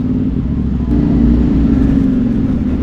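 Road traffic idles and rumbles close by around a CFMoto 450NK motorcycle in a jam near Tagaytay, a steady loud low engine drone with a slight swell partway through.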